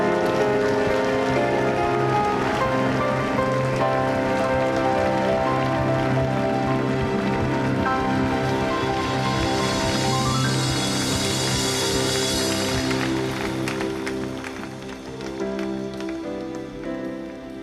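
Congregation applause at an outdoor worship and praise gathering in Yeouido Park, a dense, steady wash of clapping blended with loud sustained band music, easing slightly near the end.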